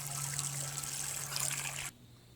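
Cold well water pours steadily from a tap over freshly cooked beets in a colander. The splashing is close and continuous, then cuts off abruptly near the end.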